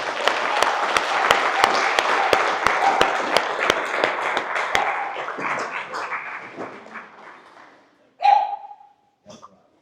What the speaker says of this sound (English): So, clap hand for them.